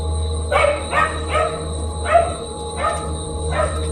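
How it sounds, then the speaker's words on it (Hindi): Dogs bark at night as a cartoon story sound effect, six or so sharp barks spaced about half a second apart, moderately near, over a steady low hum and no talking. "सिर्फ कुत्तों के भौंकने की आवाजें सुनाई दे रही थीं।"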